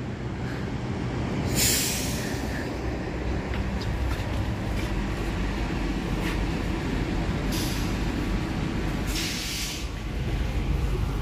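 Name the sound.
Cikuray train with economy new generation carriages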